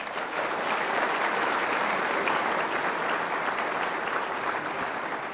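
A banquet hall audience at a men's college basketball banquet gives a round of applause, a thick, even roar of many hands clapping, loud and sustained without pause throughout.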